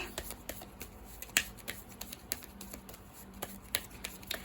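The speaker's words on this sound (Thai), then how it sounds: "อะดูไพ่ออร์เคิลเพิ่มเติมสิ" Oracle cards are shuffled by hand for a reading, making a quick run of light slaps and riffling clicks close up, with uneven rhythm and no talking.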